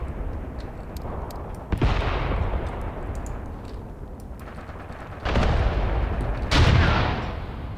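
Tank cannon fire aimed at enemy T-34 tanks in the WWII tactics game Graviteam Tactics: Mius Front, with three heavy booms spaced a few seconds apart, each followed by a long rumbling decay over steady background battle noise.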